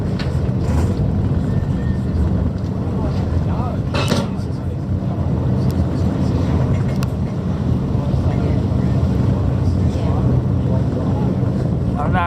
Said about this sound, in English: Finding my balance on the ferry that's rocking a bit.